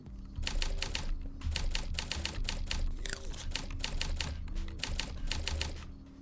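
Typewriter keys clacking in a video game, a rapid, dense run of near, loud strikes broken by brief pauses, with no talking.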